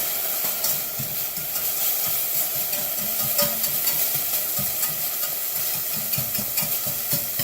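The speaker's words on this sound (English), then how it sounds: "We're just going to let this saute up a little bit." Shallots sauté in a hot pan for a bordelaise sauce, with a steady moderate sizzle. Utensils scrape and clink against the pan at irregular intervals, all close by and with no talking.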